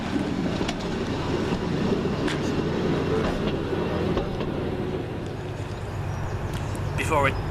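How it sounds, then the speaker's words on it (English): West Midlands Railway Stourbridge Shuttle railcar 139002 arriving at Stourbridge Junction station, a steady low rumble with faint rail clicks and a brief squeal near the end, moderately close. "Arriving back to terminate from Stourbridge Town with the West Midlands Railway Stourbridge Shuttle"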